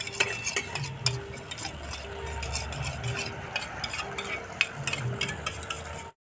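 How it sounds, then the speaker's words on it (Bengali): Sour yogurt being whisked in a bowl for a doi katla fish curry, a close, rapid scraping and tapping rhythm of utensil against the bowl that runs continuously, with faint background sizzle. "টক দইটা ফেটিয়ে নিচ্ছি"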